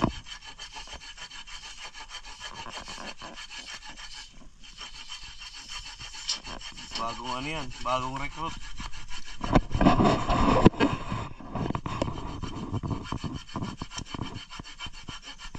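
A hand saw rasps back and forth through soft wood in repeated strokes, growing louder partway through, with someone speaking briefly in between.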